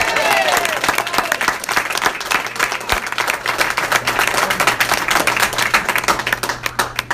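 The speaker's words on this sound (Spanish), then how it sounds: "un aplauso más fuerte, ¿no?" An audience at a Spanish-language business mentoring seminar claps, with sharp individual hand claps standing out within broader applause, loud and close, over a low steady hum.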